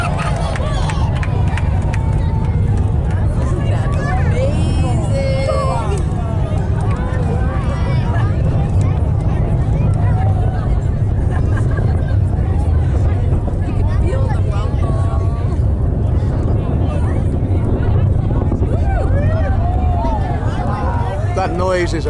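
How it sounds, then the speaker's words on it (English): SpaceX Falcon rocket engines roar during the Crew-5 Dragon launch, watched from afar near Kennedy Space Center: a dense, continuous rumbling blast that fills the whole stretch, with crowd voices and chatter mixed underneath. "Those are those engines that are just temporarily throttling back."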